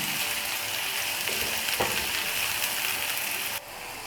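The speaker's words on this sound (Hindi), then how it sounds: "तो प्याज भी बहुत ज़्यादा नहीं करने, बस 1 मिनट हम इसको फ्राई करेंगे।" Onions and garlic fry in a pan for a chicken samosa filling, giving a steady, loud sizzle throughout with a brief clatter of stirring and a slight drop in level near the end.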